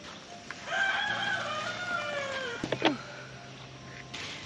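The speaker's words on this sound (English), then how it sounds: "Hear my rooster back there? He's starting to sound a little bit more like a rooster." A rooster crows once at moderate distance, a rising then falling call that is somewhat thin and wavering, followed by a brief squawk amid quiet outdoor ambience.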